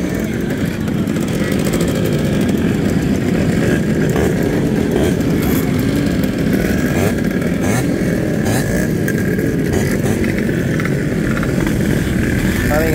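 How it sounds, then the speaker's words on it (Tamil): A Yamaha RS two-stroke motorcycle engine in Sri Lanka runs loud and steady for the whole stretch, a dense buzzing roar that never drops away, with voices audible over it. "பைக்கில் சத்தம் வேற லெவல் இதெல்லாம் வந்து ஆர்எஸ் 2 ஸ்ட்ரோக்"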